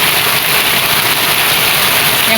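A rain and wind storm with lightning in Trat, Thailand, makes a steady, dense roar of rushing noise that stays constant and fairly loud throughout, with no voices.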